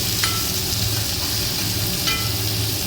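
Onions and green chilies sauté in hot oil with a steady, dense sizzle and hiss, close and constant, with a couple of faint scraping stirs.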